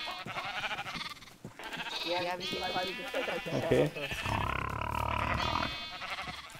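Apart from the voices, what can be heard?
sheep bleating in Minecraft video game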